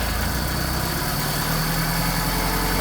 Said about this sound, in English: as the engine gradually warms up, you will push in the choke, depending on the temperature and how warm the engine has gotten